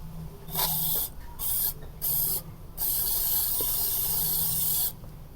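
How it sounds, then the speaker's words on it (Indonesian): Cleaner is sprayed onto a motorcycle battery and fuse parts, with close, hissing aerosol bursts in an uneven series of short and long sprays separated by brief pauses. "Langsung kita semprot."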